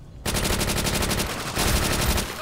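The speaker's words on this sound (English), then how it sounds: "I am doing well with this Thompson" Thompson submachine gun firing in Call of Duty: World at War, two loud rapid full-auto bursts with a brief dip between them, close and evenly paced.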